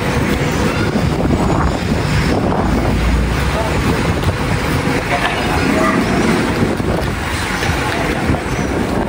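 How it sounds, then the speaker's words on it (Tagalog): Strong wind buffets the microphone outdoors in a steady, loud roar with gusty low rumble throughout, while a crib is loaded onto a vehicle nearby. "Lakas ng hangin, aba."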